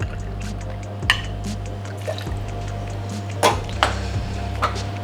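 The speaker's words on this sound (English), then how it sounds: "15 mils of sugar syrup." Sugar syrup, about 15 ml, poured into a cocktail shaker already holding Amaretto for an Amaretto sour, a short liquid trickle with a few light clinks, close up under a steady low hum.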